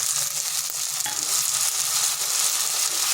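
Ginger and tomato frying in oil in a pan for a soybean and chana dal dish, a steady close hiss with soft crackle and a few faint stirring scrapes, no talk.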